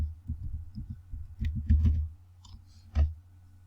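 A computer mouse clicks close by during photo editing, soft low knocks scattered irregularly with a few sharper clicks standing out over a quiet room.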